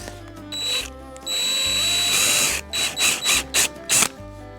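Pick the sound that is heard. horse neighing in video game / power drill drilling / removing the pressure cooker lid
power drill drilling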